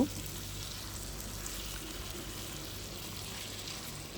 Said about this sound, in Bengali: এখন নেড়ে ছেড়ে মশলার সঙ্গে ভালোভাবে মিশিয়ে নেব